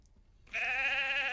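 A single sheep in Lord of the Rings Online lets out a clear, wavering bleat that starts abruptly after a moment of quiet and holds steady at close range.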